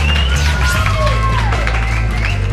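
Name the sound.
audience applause and cheering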